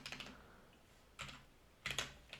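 Typing on a computer keyboard, short bursts of quiet clicking keystrokes separated by pauses, close and faint, with no speech over it.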